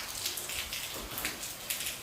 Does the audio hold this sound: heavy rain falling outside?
yes